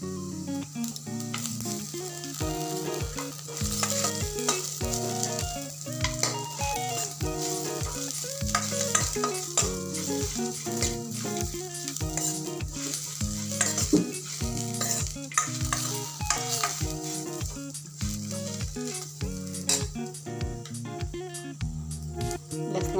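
Cinnamon and dry coconut fry in a pan for a masala for besan vadi bhaji, giving a steady close sizzle with repeated stirring scrapes throughout, while music plays in the background.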